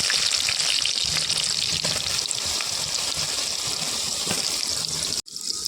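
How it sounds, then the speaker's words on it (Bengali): Soaked, drained soybean chunks fry in hot oil with a dense, steady, loud sizzle much like running water, which cuts off abruptly for a moment near the end. "এবার আমি সয়াবিনটা ভেজে নেবো।"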